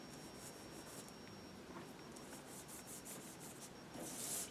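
Rub 'n Buff metallic wax paste being rubbed by hand onto a mixed-media Christmas craft piece: a soft, steady, close scrubbing friction running throughout, with a slightly brighter, louder rub near the end.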